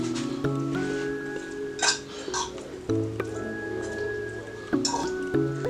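Mashed fish cake mix of fish and potato is squeezed by hand in a bowl to press out the liquid, giving close squishing and dripping sounds with occasional light clinks over a low background hum.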